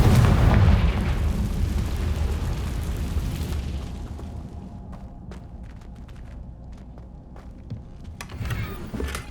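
Confringo blasting spell explosion in Hogwarts Legacy: a heavy, loud boom and rumbling blast that slowly fades over several seconds into scattered debris crackles and clicks.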